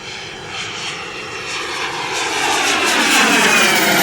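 A Flyfly Hobbies Viper 2.2 RC turbine jet flies at full throttle, a continuous roaring rush with a high turbine whine that swells steadily louder as the model passes near.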